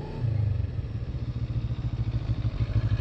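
A CFMoto 250 motorcycle engine idling close by, a rhythmic low thumping pulse with mechanical clatter, steady and fairly loud with no talk.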